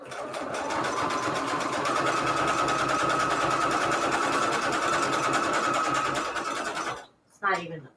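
A sewing machine stitches a zigzag seam at speed on a junk journal cover, a steady fast mechanical whirr with rapid needle clatter that cuts off abruptly, followed by a brief voice.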